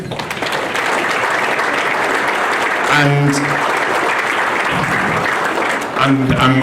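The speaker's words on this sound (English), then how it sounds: "let's give him a big round of applause" A crowd at a football awards dinner applauds steadily and loudly, sustained clapping filling the room while a voice speaks briefly over it.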